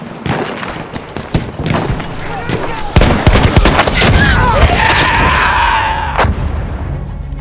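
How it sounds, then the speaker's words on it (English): Video game combat: a grenade blast and rapid gunfire crack loudly, with a heavy boom about three seconds in followed by sustained roaring fire and scattered shots. "Grenade out!"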